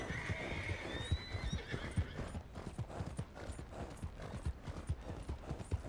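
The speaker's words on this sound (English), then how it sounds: "That's a nice looking horse you have there." A horse in Red Dead Redemption 2 gives a whinny at the start, then its hooves clop in a steady walking rhythm, close and moderately quiet, with no speech over it.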